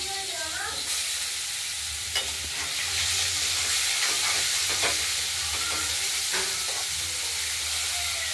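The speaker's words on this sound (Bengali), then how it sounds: "নেড়ে নিলাম, মাছগুলো ভাজা হবে।" Fish frying in hot salted oil in a pan, being turned and stirred, give a steady loud sizzle with a few scraping knocks from the utensil, close up and with no talking.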